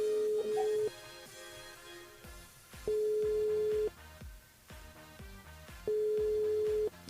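An outgoing telephone call rings back with steady electronic tones, each long beep lasting about a second and repeating at even intervals over soft background music.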